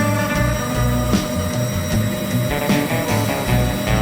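Machining tool cutting 3.5 inch metal tube bearing holders for a 1969 VW bus front beam, a steady close grinding whir with a tonal hum and faint rhythmic chatter, running on its own.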